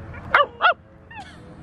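A pet dog gives two short, sharp barks close by, spaced a fraction of a second apart, followed by a fainter higher yelp or whine.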